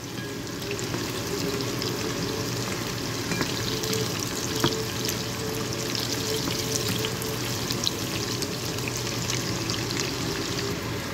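Cabbage frying in a pan for Filipino noodles: a steady, close sizzle with crackling and occasional stirring scrapes running throughout, no voices.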